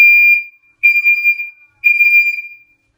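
A Nest smoke alarm sounding during a test, loud piercing high-pitched beeps in three bursts with short silent gaps between them, close and alone.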